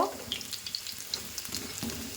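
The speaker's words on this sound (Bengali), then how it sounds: "এটাকে এবার আমি একটু লাল লাল করে ভেজে নেব" Chicken balls fry in hot oil, giving a steady, close crackling sizzle with small pops scattered throughout and no voices.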